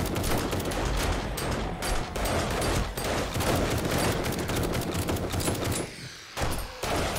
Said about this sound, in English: I can hear Mad-Eye shooting